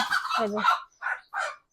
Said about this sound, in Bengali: মুরগি খুব মারামারি করছে নতুন মুরগি এসেছে